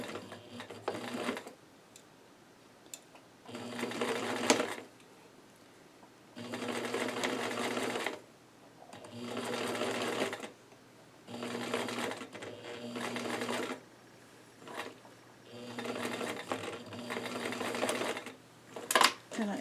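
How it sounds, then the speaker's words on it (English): A sewing machine stitches through all layers of a collar from end to end in repeated steady whirring bursts, each a couple of seconds long, separated by short pauses, close and clear. "now I'm going to sew through everything from one end to the other."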